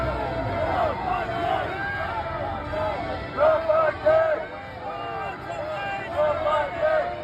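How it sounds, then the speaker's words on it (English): A protest crowd booing and chanting "Not my king" at the UK royal family, a distant babble of voices rising in a few swells, heard faintly in the background. "They're yelling, "Not my king," if you can hear in the background."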